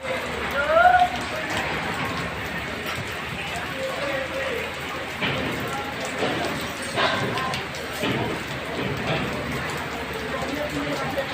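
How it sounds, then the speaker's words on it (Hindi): Steady rain hisses down across an outdoor setting where people are working through a downpour, a dense broadband wash that stays fairly even for the whole stretch, with faint murmured voices mixed in underneath. "इतना वर्षा में सब इतना मेहनत कर रहा है"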